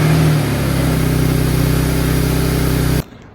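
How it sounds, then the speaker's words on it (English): A 2008-era Audi B8 S4 engine fires up close by and settles at once into a steady, humming idle with a constant low drone, then cuts off abruptly near the end. "Now I'm gonna start it up, and if everything is on correctly, there should be no check engine lights"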